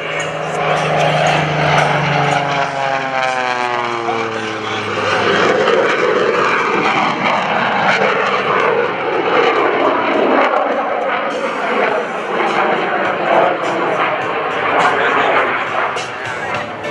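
The Waco biplane Screamin' Sasquatch roars past at a Rhode Island Air National Guard open house airshow, its engine loud and sweeping downward in pitch as it passes, while an announcer talks over the noise.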